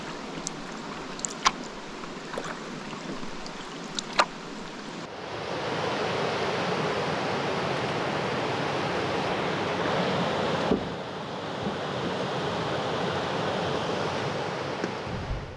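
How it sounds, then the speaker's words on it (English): Steady hiss of rain during a canoe trip in Algonquin, quieter at first with a few light taps, then a louder, dense downpour that continues to the end. "it is raining."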